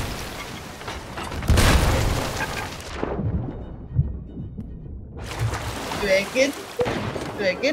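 Ship cannons fire in the pirate game Sea of Thieves: a heavy boom rolls out and fades to near silence, then more thuds and rumbling battle noise build back up, loud and close.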